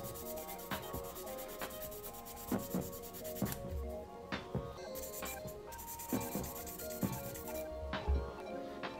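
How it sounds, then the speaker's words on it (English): Rhythmic rasping strokes of sandpaper rubbing back and forth on a hard small resin model kit part, close up and steady throughout. "when you're sanding this, let me just show you guys for an example here."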